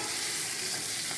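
Onions hit a hot pan and fry with a bright, dense sizzle, heard close and continuous, with faint stirring and no voices.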